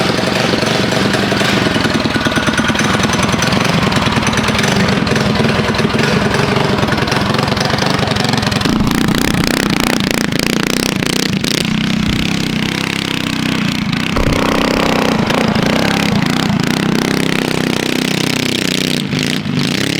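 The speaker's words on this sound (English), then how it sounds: "It's time we go test out this mini trike." A small mini trike engine runs continuously, a rough, buzzing putter that revs and wavers in pitch, loud and close, with no voices over it.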